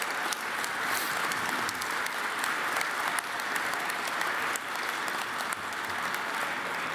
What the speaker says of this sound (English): we really need to give those folks a round of applause